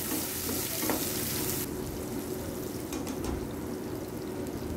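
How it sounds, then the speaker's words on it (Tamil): Onions sizzle and crackle steadily in a hot pan for egg curry, a dense frying hiss with occasional stirring scrapes, no voices. "வெங்காயத்தை நல்லா வதங்க விடலாம்."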